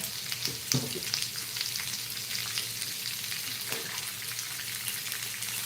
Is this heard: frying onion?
yes